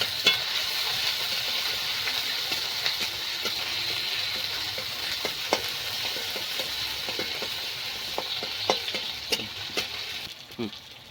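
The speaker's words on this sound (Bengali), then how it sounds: "পেঁয়াজটা দিয়ে মশলার সাথে ভালো করে নেড়ে চেড়ে ভেজে নিতে হবে" Chopped onions frying with spices in a pan, a steady moderate sizzle broken by frequent sharp clicks and scrapes of stirring, continuing unbroken and fading slightly at the end.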